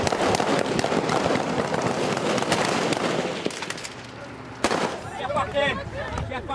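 A single sharp gunshot cracks out amid a roadside clash in the Central African Republic, following loud, dense commotion of shouting and engine noise, with voices continuing afterward.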